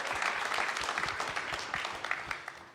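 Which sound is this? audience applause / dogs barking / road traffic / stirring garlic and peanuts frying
audience applause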